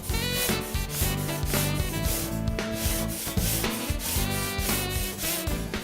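A brown scouring pad on a handle scrubs pitted BBQ grill grates in quick, rhythmic back-and-forth strokes, giving a close, gritty rasping with no voices.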